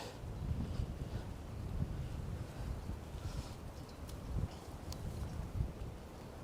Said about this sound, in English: Here you have the wind.